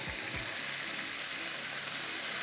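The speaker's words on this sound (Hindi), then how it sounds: "सब्जियों के साथ हम इसमें डालेंगे आधा कप के इतना पानी" Water pours into a cooking pan of vegetables as a steady, loud splashing hiss, with a couple of low thumps at the start and no speech.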